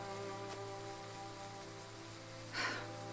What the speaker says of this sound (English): we can wait out the rain here for the day